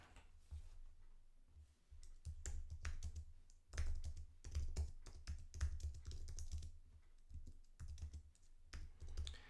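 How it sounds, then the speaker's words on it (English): Keys clatter on a computer keyboard as a question is typed into an online form, quiet, irregular bursts of close clicks with brief pauses between words. "we can then type in our question"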